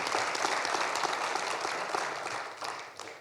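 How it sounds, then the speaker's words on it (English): Indoor audience at a 2022 Cranbrook municipal election all-candidates forum claps for the candidates, a dense, loud burst of applause that tapers slightly toward the end. "Let's get another round of applause for your candidates, please."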